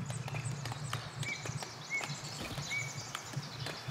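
Horse hooves clip-clopping in the video game Foundation, a soft steady patter of hoof steps at a walking pace, faint and distant under a low ambient bed with occasional light chirps.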